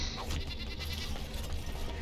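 Goats bleat in a Dragon Age: Origins farm area, a steady dense layer of animal calls at moderate loudness with no talk over it.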